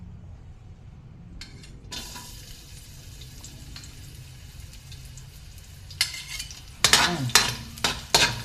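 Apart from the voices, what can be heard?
garlic sizzling as it browns in a pan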